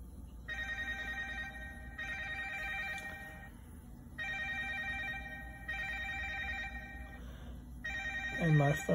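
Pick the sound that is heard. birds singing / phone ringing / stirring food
phone ringing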